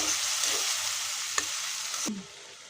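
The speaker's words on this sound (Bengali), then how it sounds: "পেঁয়াজের সাথে একদম কষে নিব মশলার সঙ্গে" Onion, tomato and spices sizzle loudly in a pan, with a couple of spatula scrapes against the metal, before the frying hiss drops away sharply near the end.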